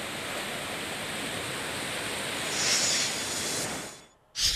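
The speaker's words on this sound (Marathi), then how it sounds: "या भागातील ओढे नाले खळखळून वाहू लागलेत" Floodwater from the Kukdi river and swollen streams after heavy rain rushes as a steady, dense roar that swells briefly, then drops away near the end before a short burst returns.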